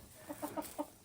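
Maran hens and a rooster give a quick run of soft clucks inside a warm chicken coop during a hard frost, four short close calls over a faint background hum.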